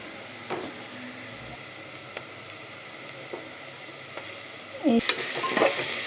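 Ginger paste stirred around a hot cooking pan for a curry, soft scraping strokes over a low steady sizzle, with a louder clatter of stirring near the end.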